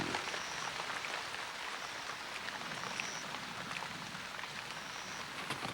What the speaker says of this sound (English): The rain pounds away for 2 hours, abating only in the late afternoon.